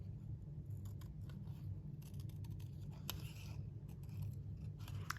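Scissors fussy-cut stamped cardstock in small repeated snips, the paper being turned while the blades stay still, faint and close over a steady low background hum, with no talking.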